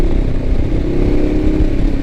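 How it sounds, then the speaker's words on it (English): A Ducati Diavel motorcycle engine runs loudly and close by, a steady low rumble with faint mechanical clatter and no voices. "Listen to that engine."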